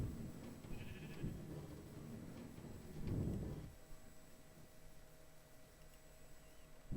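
Sheep bleats from a Minecraft redstone build where a sheep is trapped, a couple of short mid-loud bleats around the first and third seconds over a steady game hum.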